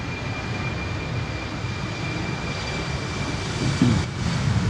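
A TUI Boeing 757 jet departs on a windy day at Amsterdam Schiphol airport, its engines giving a steady, moderately distant roar that swells slightly toward the end.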